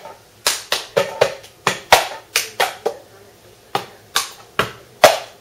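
Sharp hand claps and hollow cup taps from the cup song in a quick rhythmic pattern, about a dozen hits with brief pauses, close and fairly loud.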